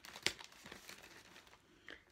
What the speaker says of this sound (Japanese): なんか切れないから、ハサミで